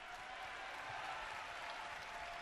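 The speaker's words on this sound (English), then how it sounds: "Crowd loving the defensive effort for the Cats" A basketball crowd in an arena applauds and cheers a defensive play by Vermont, a steady far-off wash of clapping and voices that holds level throughout.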